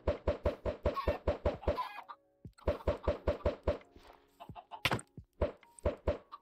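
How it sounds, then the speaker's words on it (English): Chickens in the Minecraft video game make rapid, evenly spaced clucks and knocking blips in several bursts with short pauses between. The sounds are close and distinct. "Ah, now you got the chickens out too."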